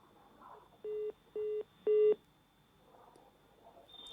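Three steady telephone line tones on a disconnected call, each about a quarter second long with short gaps between them, loud and clear above a faint line hiss.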